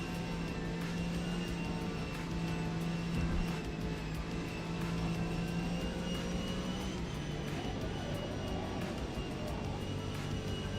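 A race car engine drones steadily at Mount Panorama in Forza Motorsport, the pitch shifting subtly as the throttle is feathered, a continuous unbroken roar with no talk.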